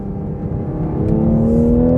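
A Toyota Supra engine revving hard under acceleration, a steady rising drone climbing in pitch through the gear with a faint click near the end, loud and close with no voices.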